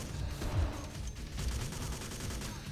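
Gunfire in the video game Alpha Prime, a dense rattling fusillade of rapid shots with low booming thuds, continuous and moderately loud.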